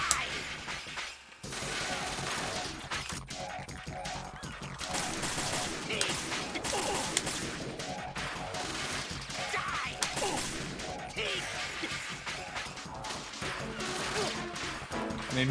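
Gunfire crackles through a Metal Gear Solid 2 video game fight, with repeated sharp bursts, impacts and crashing hits scattered over a busy, continuous battle soundscape.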